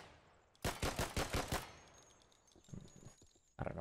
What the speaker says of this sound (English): The fireworks launch.